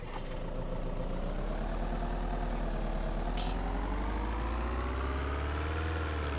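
A heavy vehicle engine in a video game drones loud and close while driving around a prison area, its low rumble rising steadily in pitch as it accelerates.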